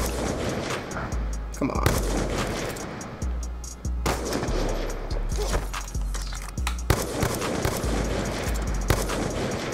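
Gunfire in Black Ops 2 comes as a string of punchy shots with low booming thumps, spread unevenly throughout, while a player briefly speaks.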